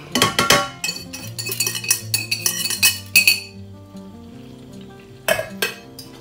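Sifted flour stirred into hot fat to start a roux for béchamel, with clinking of a utensil against the pan, scraping and a soft sizzle in uneven bursts.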